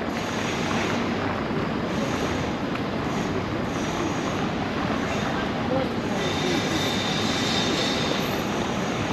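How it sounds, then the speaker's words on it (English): Subway train in Auckland rolling past with steady, dense rumble and a faint high wheel squeal emerging later, continuous and fairly close throughout. "Is that a subway? Probably a subway."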